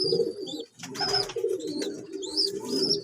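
Pigeons feed their chicks close up, with repeated throaty cooing and soft grunting calls and a few high squeaky chick peeps, loud and near in a continuous run.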